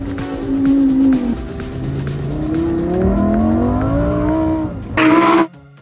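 A Lamborghini Huracan races through a tight final corner of a track, its engine loud and near, dropping on the brakes, then climbing through the gears with a sharp final howl before cutting off.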